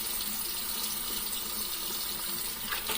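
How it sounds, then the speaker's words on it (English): Steady running water from a sink tap while a safety razor shave is rinsed off, a continuous close hiss and splash with no talking. "So let's rinse off a little."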